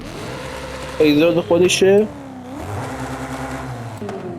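A 2008 BMW M3 with an upgraded exhaust revving in a video game: a short burst of sharp rising engine revs, then a steadier droning idle, loud and close, with someone speaking over it.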